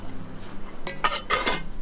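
A frying pan and dishes are handled at a riverside campsite, giving a few close metallic clinks and clatters in two quick bursts over quiet background noise.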